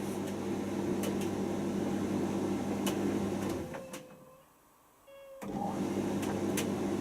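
An AEG T37700 sensor tumble dryer hums with a low, steady whir and faint rattles, the sound dipping briefly in the middle before resuming.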